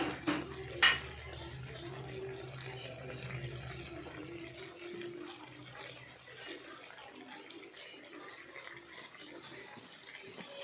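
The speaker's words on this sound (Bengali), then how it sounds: "সোয়া সস দিয়ে ভালোভাবে নাড়াচাড়া করলাম।" Soybean curry with soy sauce is stirred in a pan, giving faint scraping and soft clinks of a utensil against the metal amid quiet kitchen background.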